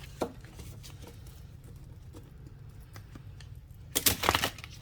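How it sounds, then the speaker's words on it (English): Soft, papery patter of oracle cards being shuffled, quiet and steady, ending with a brief louder flurry. "it shuffles good that way"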